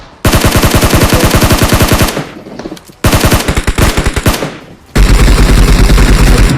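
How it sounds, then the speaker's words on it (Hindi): Rapid automatic gunfire in the mobile battle royale game PUBG Mobile, loud and close, coming in three sustained bursts with brief gaps between them. "कवर फायर दो"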